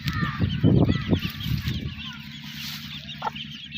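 Desi hens with a brood of chicks cluck and call close by, a burst of loud throaty clucks in the first two seconds, then quieter chirping and a faint squawk.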